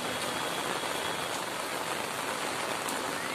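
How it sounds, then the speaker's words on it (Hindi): Heavy rain falls during two days of nonstop downpour in a flooded lane, a dense, even hiss of drops on surfaces, loud and close, steady throughout with no voices. "मजे लो भाई इससे बारिश के।"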